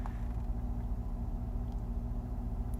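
Steady low engine rumble from the cabin of a 2003 Mercedes S-Class as it moves off in first gear, with a faint transmission fault; continuous, even and close, with no talk.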